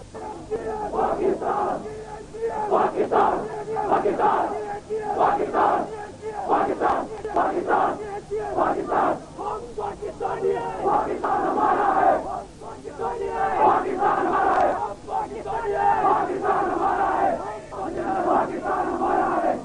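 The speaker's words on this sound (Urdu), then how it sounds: "آج سارے کشمیر میں آزادی اور اسلام کے یہ نعرے" A large crowd chants slogans for freedom and Islam at a rally in Kashmir, loud, dense and continuous, with rhythmic shouted call-and-response phrases swelling and dipping for the full duration.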